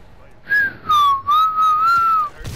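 A person whistles a short, clear tune of gliding, wavering notes in a few phrases, close and loud with no talking.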